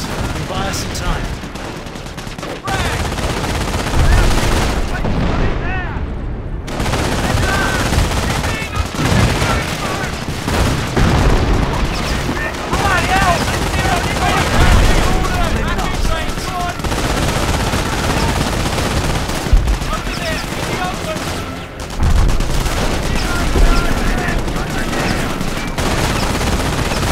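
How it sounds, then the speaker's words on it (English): MG42 machine gun fire rattles in long, dense bursts amid other gunfire and explosions in a Company of Heroes World War II battle, with loud, continuous combat noise throughout. "MG42 to the front"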